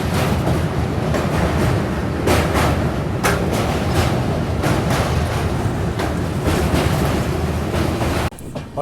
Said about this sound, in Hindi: तुरंत हमारी ट्रेन पहुंच रही है किऊल जंक्शन रेलवे स्टेशन।